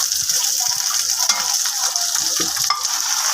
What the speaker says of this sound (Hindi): दूसरी साइड से अब हम इसको कुक कर रहे हैं।